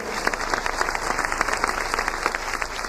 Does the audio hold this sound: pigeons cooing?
no